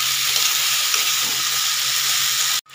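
Ridge gourd and other vegetables are stir-fried with salt and sugar in a pan, producing a continuous close sizzle and hiss that cuts off abruptly near the end.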